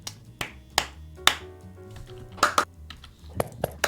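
A few scattered claps and sharp taps sound at irregular intervals, close by and fairly quiet, with no steady rhythm.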